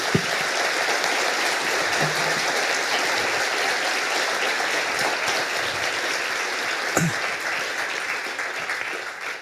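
Sustained applause from a lecture audience after an evening talk, a dense even wash of many hands clapping throughout, close and steady with only a faint voice or two underneath.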